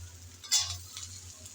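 Taro stolons (kochur loti) are stirred in a little oil in a pan, giving a soft, steady sizzle with a brief scraping stir in the middle and a low hum beneath.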